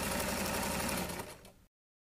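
Sewing machine stitching a frock belt straight along both sides, a steady close whirring run that slows and cuts off near the end.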